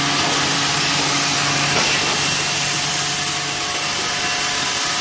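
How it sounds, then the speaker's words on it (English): A sharp bandsaw cutting through pallet wood makes a loud, continuous rough sawing roar that holds steady for several seconds with no talking. "Then it goes through the bandsaw that is very sharp."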